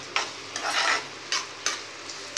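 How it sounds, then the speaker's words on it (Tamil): Onions sizzle loudly in hot oil close by while cooking egg Manchurian, broken by a few sharp scraping strokes of stirring in the pan. "வெங்காயம், சுடு எண்ணெய் தான், அதனால் நான் உடனே போட்டேன்."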